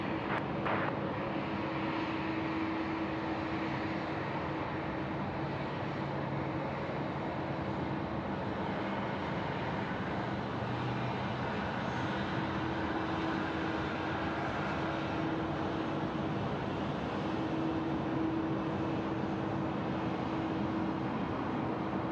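Virgin Australia airliner landing at Sydney Airport, a steady broad engine roar with a faint whine that holds level and fairly loud throughout, distant and continuous with no talk.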